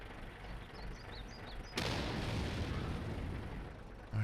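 World of Tanks tank battle: a sharp, loud broadband blast at about 1.8 seconds, followed by a sustained rumbling roar and a second thump near the end. Faint chirpy tones sound before the blast.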